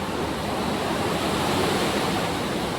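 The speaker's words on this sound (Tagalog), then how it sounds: "Ang lakas ng hangin." Strong wind from Super Typhoon Uwan roars continuously, a loud broadband rush with no pauses and no voices.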